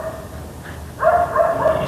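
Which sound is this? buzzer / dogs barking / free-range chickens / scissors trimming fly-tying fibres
dogs barking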